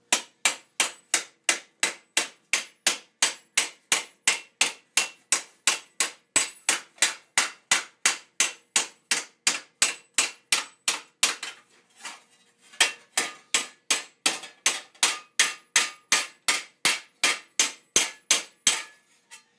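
Steady, evenly spaced metallic hammer blows ring out on steel armor plate for late 14th-century greaves, dozens in a row with a brief pause midway, no voices.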